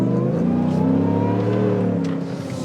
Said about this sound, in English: Good exhaust sound, good supercharger intake noise